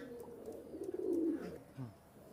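Domestic pigeons for sale give a soft, low coo close by, one rolling call swelling midway and then trailing into a shorter note, over a quiet background.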